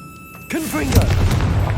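A Confringo blast spell bursts with a booming explosion in Hogwarts Legacy, a sudden loud impact after a quiet start, followed by crackling rumble and a brief whoosh; no one speaks.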